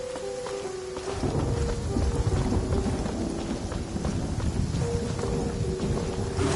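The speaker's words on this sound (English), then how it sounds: "Taking a stroll in the middle of a downpour certainly rouses the spirit." Heavy downpour in the video game Genshin Impact, a steady dense hiss of rain with low rumbling thunder, loud and continuous throughout, after a brief tonal music note at the start.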